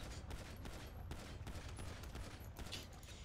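Gunfire in the video game GTA 5 rattles in a dense, continuous fusillade of overlapping shots, loud and unbroken throughout.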